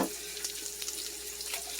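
Beef hitting a hot pan for beef and mushroom risotto, giving a steady close sizzle and hiss with small crackles throughout.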